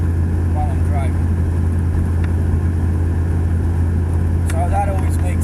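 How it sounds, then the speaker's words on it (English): Exhaust of a 2001 Dodge Ram 2500 pickup while driving on new tires: a steady, loud low drone with constant road rumble throughout, and faint voices briefly in the background. "hard to hear the tires over the sound of the exhaust"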